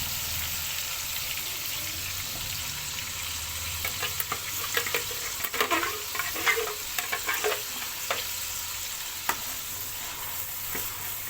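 Onion paste made from large onions frying and being stirred in a pot for a white korma, with a steady close sizzle and soft irregular scraping strokes, alone without talk.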